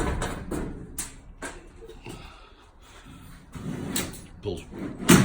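A metal rack slides out of a homemade kerosene-fired powder coating oven with a series of sharp scrapes and clunks scattered across the moment, while a person talks throughout.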